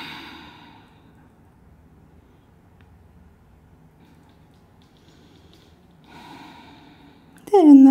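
Deep breathing during a yoga class: a slow audible inhale and exhale at the start, quiet stillness, another breath, then a sudden loud close sound at the end.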